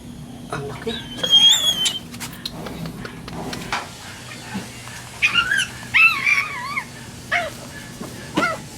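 A newborn puppy gives several thin, high whimpers and yips, alone and close by over a low background hum.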